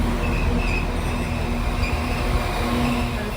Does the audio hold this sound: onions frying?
no